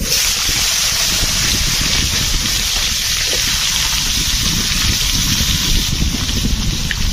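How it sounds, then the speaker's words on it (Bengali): Bitter gourd frying in a pan at home, a steady loud broadband hiss and crackle filling the whole stretch with no pauses and no voices. "আর আমরা ভেজে নিচ্ছি, দেখো।"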